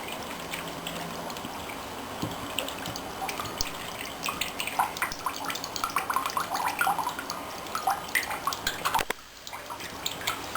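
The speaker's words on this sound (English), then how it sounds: "Milking the coconut." Fresh coconut milk trickles and drips from a coconut, a close, soft run of irregular wet drops and small splashes that continues steadily before briefly going quiet near the end; no talking.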